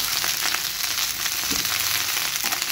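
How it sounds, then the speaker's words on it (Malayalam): Onion and green chili sauté with okra in oil for curry, a dense, even close-up sizzle with a faint stirring thud midway. "അതിലേക്ക് കുറച്ച് സവാള പിന്നെ ഒരു പച്ചമുളകും ചെറിയതിട്ടിട്ട് ഒന്നുകൂടെ വഴറ്റിയെടുക്കാം"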